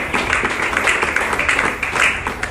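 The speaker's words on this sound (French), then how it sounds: "Applaudissez très fort pour elle." An audience at an International Menstrual Hygiene Day event applauds loudly, a thick continuous wash of many hands clapping together with no pauses, close and full.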